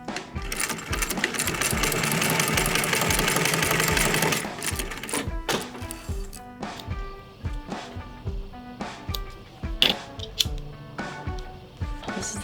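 A sewing machine stitches a leather crossbody bag in a steady, fast run of close mechanical clatter. Midway through, the stitching breaks into shorter, uneven bursts with separate clicks and knocks.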